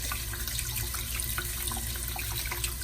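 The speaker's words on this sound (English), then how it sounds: "I'm gonna go over here to the sink" Tap water pours into a kitchen sink as a continuous, fairly loud rushing splash that stays even from start to finish, with no voices over it.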